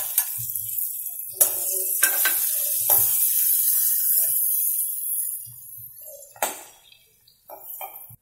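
Chopped onions go into hot oil already seasoned with asafoetida and turmeric for a dry jackfruit and potato curry, giving a close, steady hiss and sizzle with scraping stir strokes and a few sharp clinks.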